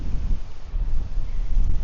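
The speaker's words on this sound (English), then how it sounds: "the wind is so strong and noisy" Strong wind buffets the microphone outdoors on a long countryside walk in Lincolnshire, producing a loud, continuous low rumbling roar with fluctuating gusts and no clear speech.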